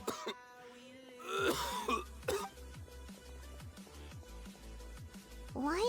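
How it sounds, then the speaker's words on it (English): A video game character coughs and clears his throat several times in rough bursts over a steady musical score. "Why is he coughing so much?"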